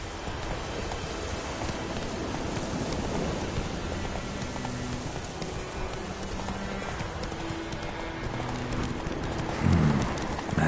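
Roach, Geralt's horse in The Witcher 3: Wild Hunt, gallops with steady rapid hoofbeats over a rainy backdrop, the clip-clop loud and continuous throughout, with a brief whinny-like burst near the end.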